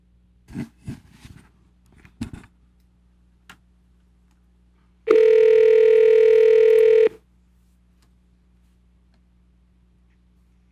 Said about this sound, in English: as Andrew's dialing